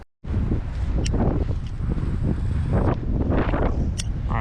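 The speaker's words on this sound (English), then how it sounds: "It's a super windy day." Strong wind buffets the microphone in a constant loud roar, with gusty rumbles swelling and fading throughout.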